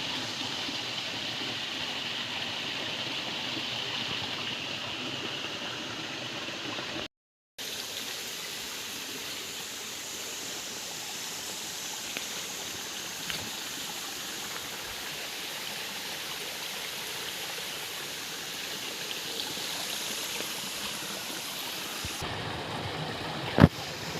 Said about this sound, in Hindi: जगह जगह पहाड़ों में पानी देखने को मिल रहा है।